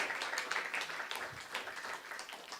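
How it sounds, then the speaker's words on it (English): Faint applause from a live audience for a group of musicians: a fairly distant, continuous patter of clapping that eases off slightly toward the end. "round of applause for these amazing musicians."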